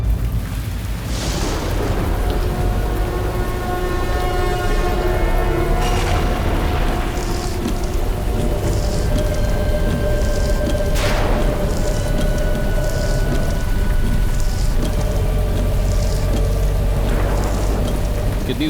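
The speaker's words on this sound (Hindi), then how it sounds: "कितनी जोर की बारिश हो रही है।" Heavy rain pours down continuously outdoors at night near a rural rest house, a loud dense roar with low rumbling booms like thunder rising and fading throughout, with no voices.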